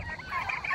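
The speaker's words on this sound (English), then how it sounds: "I'm just gonna feed the turkeys." Turkeys gobble and warble together in a busy, overlapping chorus, close by and fairly loud, with a low farmyard rumble underneath.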